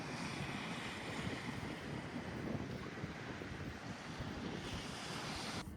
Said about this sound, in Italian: Oh, finalmente il mare.